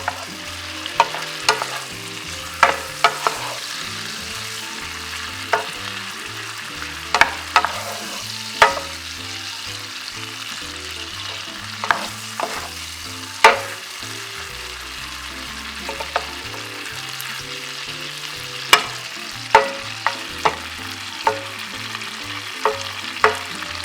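Carrots tossed and stirred with a lemon honey glaze in a hot frying pan, with a steady close sizzle punctuated by frequent sharp scrapes and clacks of the utensil against the pan.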